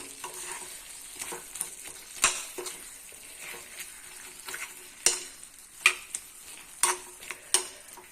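Tripe roast stir-fried in a pan, a soft continuous sizzle broken by sharp scraping and clacking strokes of a spatula at irregular intervals, close and without talk.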